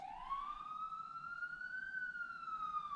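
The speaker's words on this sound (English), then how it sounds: "there's a lot of sirens going off" A single wailing siren sweeps slowly up and down in pitch, faint and distant, over low background rumble.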